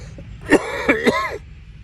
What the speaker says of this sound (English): Okay, that's enough of that. I'm coughing.